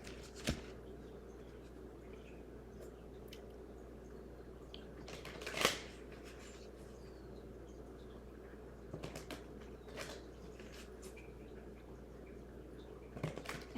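Japanese tarot cards are shuffled in a quiet room, soft intermittent riffling and flicking bursts, faint and spaced out, with a sharper snap in the middle.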